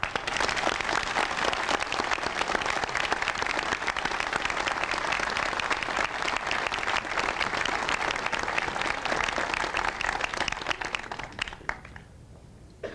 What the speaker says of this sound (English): let all of us now to give these folks a real big round of applause